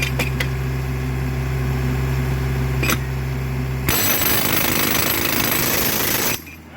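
A loud, continuous mechanical clatter of powered spike-driving on narrow gauge railroad track runs without a break, then shifts to a harsher, denser rattle partway through before cutting off abruptly near the end.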